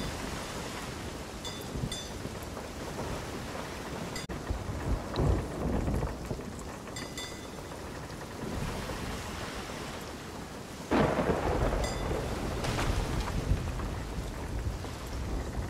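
A thunderstorm at sea in the pirate game Sea of Thieves: steady heavy rain with rumbling thunder and a sharp lightning crack partway through, ambient and without talk.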